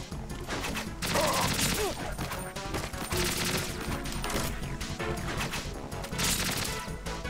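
Gunfire in Metal Gear Solid 2 HD, a dense, loud stretch of rapid shots and crashing impacts in several sustained bursts, with game music and effects layered underneath.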